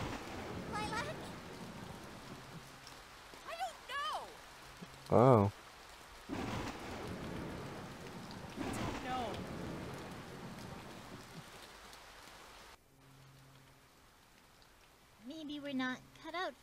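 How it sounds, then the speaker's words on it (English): Steady rain hisses throughout a scene in the video game Freedom Planet, low and continuous beneath game voices, chirpy effects and bursts of speech, and it drops away near the end. "get under some cover because, you know, it's raining."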